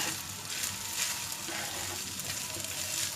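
Chinese fried rice with ginger powder and a pinch of sugar sizzles in a hot pan as it is stirred, producing a constant moderate frying hiss with soft scraping and no talk.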